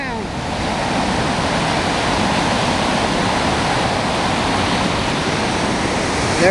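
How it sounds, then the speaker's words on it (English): Triple Falls, a multi-tiered waterfall in DuPont State Forest, roars as a steady, loud broadband rush of falling water that stays constant throughout. "This is Triple Falls at DuPont Recreation Area, the state recreation area."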